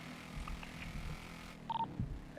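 A phone being dialed to place a call: a couple of short electronic key beeps rise out of a steady low background hum, the last one right at the end.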